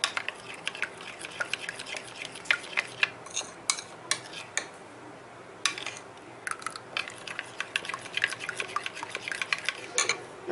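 A utensil scrapes and stirs Alexandrian-style liver with vinegar in a pan, giving irregular close metallic scrapes and clinks in short bursts over a faint background hiss, with no talk.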